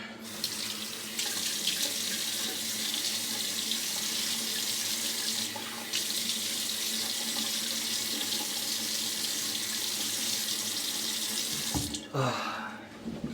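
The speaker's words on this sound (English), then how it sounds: "let's put some water in the dome" Tap water runs steadily into a shaving dome at a bathroom sink, a close, continuous splashing stream lasting several seconds before it is shut off with a brief clatter.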